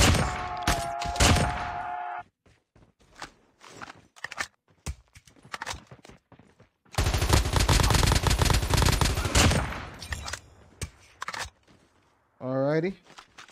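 An AK-47 Kuromaku fires in Call of Duty zombies, with loud rapid bursts of automatic gunfire in two sustained stretches broken by quieter clicks, footsteps and scattered game noises, with voices in the mix.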